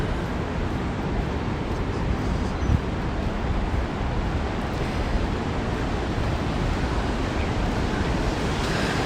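Ocean waves wash steadily onto a beach beside rocks on an early-morning coastal walk near a sand dune, a continuous broadband surge mixed with wind buffeting the microphone, with no talking.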